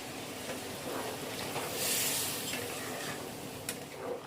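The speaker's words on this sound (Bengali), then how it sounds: "মাংসটা কষানো হয়ে গেছে এবার জল দিয়ে দেবো গরম জল ইউজ করলাম" Hot water is poured into a pan of cooked dahi chicken, raising a soft sizzling hiss with a brief swell of steam over quiet stirring and pan noise.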